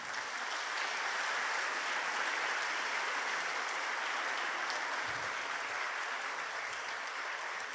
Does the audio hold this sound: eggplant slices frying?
no